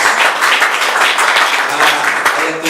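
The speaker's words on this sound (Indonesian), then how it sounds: "Yang setuju tepuk tangan untuk Tuhan Yesus Kristus." Church congregation at a year-end Sunday service clapping together, a loud dense burst of close applause that continues steadily for a few seconds.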